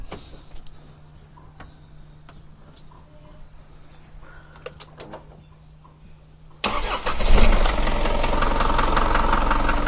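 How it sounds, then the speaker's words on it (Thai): An Isuzu NPR six-wheel truck engine cranks and fires up, settling into a loud, steady, rumbling idle after a quieter stretch of low hum and faint background noise. "จะสตาร์ทให้ดูนะครับ เดี๋ยว สตาร์ทให้ดู เครื่องนะครับ"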